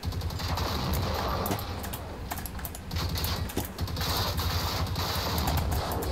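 Rapid bursts of enemy gunfire in the video game Generation Zero crackle continuously over a dense low rumble of in-game ambience, loud and sustained throughout.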